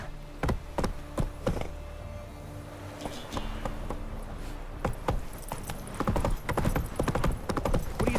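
Hooves of Geralt's horse Roach in The Witcher 3 drum along a path in quick clip-clop beats, loud and close, with a brief whinny and faint game ambience behind.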